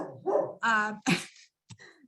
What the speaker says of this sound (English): my dog had to pick this time to start barking